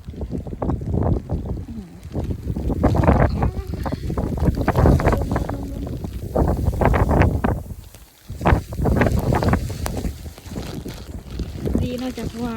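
Gusty wind blowing outdoors during a morning snowfall, a loud roaring rush buffeting the microphone, with a voice talking over it most of the time.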